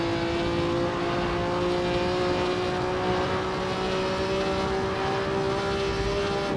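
A 1950 Formula One race car engine in the Assetto Corsa racing game, driving at Spa, holds a steady high drone with a slowly rising pitch, continuous and fairly loud, with no talking.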